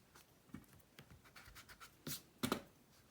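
A pencil scratches and strokes on paper up close, faint and intermittent, with short lines and a couple of firmer marks near the end.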